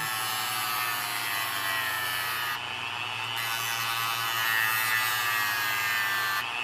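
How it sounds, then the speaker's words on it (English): A small pole on an Insta360 One R/RS lens assembly sanded with a small power tool, giving a continuous close buzzing whine with a steady hum and one brief drop partway through. "So I'm just using this one to sand this one a little bit."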